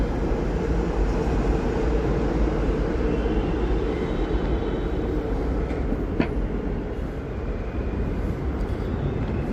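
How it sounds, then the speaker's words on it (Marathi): A train rumbles past at close range, a loud, steady broadband roar of rail wheels and carriages lasting throughout with no talk over it. "तिथपर्यंत आपण आवाज येतोय ट्रेनचा."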